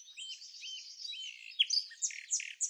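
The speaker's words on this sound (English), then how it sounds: "Say hello to the blue-gray gnatcatcher." Blue-gray gnatcatcher in Bahamian woodland giving a run of thin, high, wheezy calls, close and clear, the notes growing sharper and more broken toward the end.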